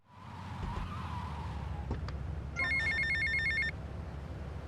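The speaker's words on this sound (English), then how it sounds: "at the very end of the game, Earnest actually gives you this phone call." A telephone rings in short repeated electronic trills inside GTA Vice City, loud over steady traffic rumble and car engine noise, with no talking.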